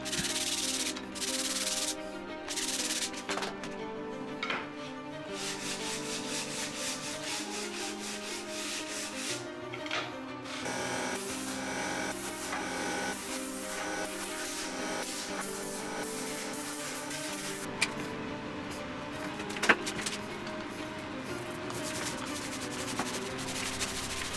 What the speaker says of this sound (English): sanded everything by hand before I put in some linseed oil